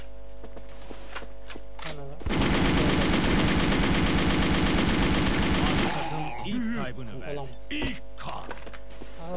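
Automatic gunfire in the WolfTeam shooter game, a loud continuous burst lasting several seconds, surrounded by scattered clicks and game sounds and someone talking.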